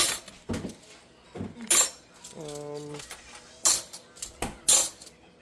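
Metal spoons clink and rattle as they are dropped into a wooden pallet-board silverware organizer, in several close, bright bursts with a short ringing tone between them.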